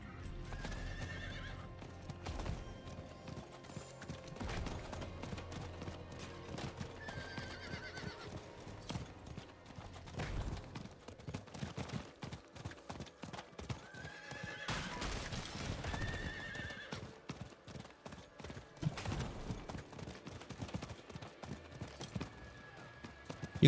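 A horse galloping and neighing in the video game Diablo 4, with steady rapid hoofbeats running throughout and several loud whinnies rising over them, alongside in-game music and effects.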